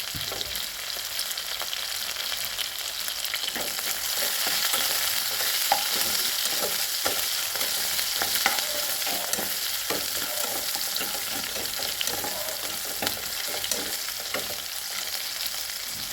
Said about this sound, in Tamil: பச்சை மிளகாய் வெங்காயத்தை நல்லா எண்ணெயில் வதக்கி விட்டுட்டு கத்திரிக்காய் சேர்த்துக்கலாம்